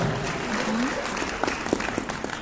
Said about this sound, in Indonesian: Tepuk tangan dong buat Prudential.